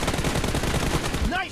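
Automatic rifle fire in the mobile shooter BGMI during a team deathmatch, a fast stuttering burst of shots that runs almost the whole moment before tailing off.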